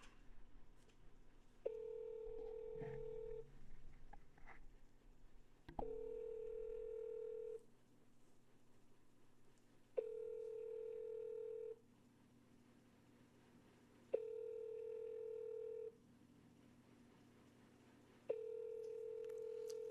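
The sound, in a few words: telephone ringing on an outgoing sales call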